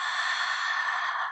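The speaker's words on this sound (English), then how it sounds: "take that ocean breathing that we inhale forward through the nose" A single long, steady ocean breath drawn audibly through the nose, a smooth airy rush held close before fading out.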